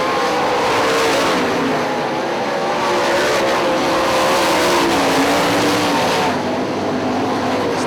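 Sprint cars in an IRA race at Hartford Speedway Park, several engines roaring continuously at close range as the field circulates the track, loud and steady throughout.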